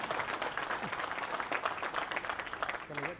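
An audience claps for the chief minister at the inauguration of an international air cargo terminal in Indore, a sustained, even round of applause with a brief voice near the end.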